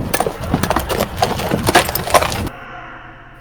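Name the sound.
imitated sound of walking in heavy armor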